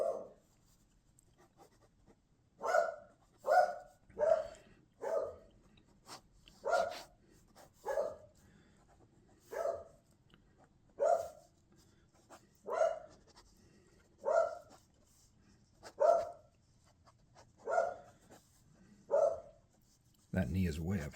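Jojo the dog barks repeatedly nearby, more than a dozen loud separate barks spaced a second or so apart in an uneven rhythm over quiet room noise.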